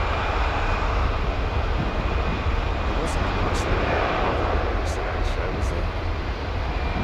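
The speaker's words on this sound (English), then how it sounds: "So this 320neo that you're looking at here, folks, this is with Brussels." An Airbus A320neo in Brussels Airlines livery departs London Heathrow, its jet engines a steady, loud broadband roar that fills the whole stretch, with a few faint higher tones showing briefly.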